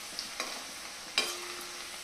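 Onions frying in a pan for a Rajasthani gatte khichdi meal, a quiet sizzle broken by a few sharp utensil clicks and scrapes, no talking.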